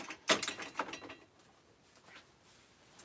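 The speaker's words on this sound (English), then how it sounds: "we are going to give this a little trim. I'm just going to grab my pinking shears" Pinking shears snip through a sewn fabric seam on a tote bag: a few crisp, close metallic crunches and clicks of the blades cluster early on, then fade into quiet with a faint click at the end.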